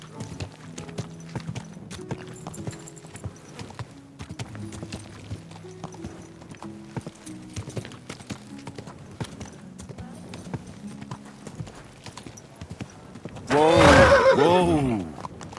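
Steady horse hooves clip-clop at a walking pace for many seconds in the video game Kingdom Come: Deliverance II, then a loud horse whinny breaks in near the end.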